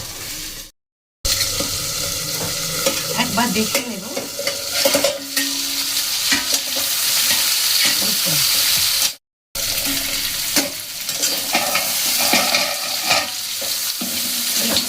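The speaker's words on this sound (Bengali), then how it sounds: "আলুগুলো খুব সুন্দর ভাজা হয়ে গেছে।" Potatoes for aloo dum fry in a pan with a strong, continuous sizzle broken by stirring and scraping. The sound cuts out twice briefly, and a voice speaks quietly over it.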